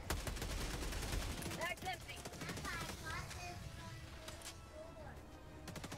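Rapid repeated gunfire from the Helldivers 2 video game, a steady fast stream of shots with a few louder bursts, while players talk over it.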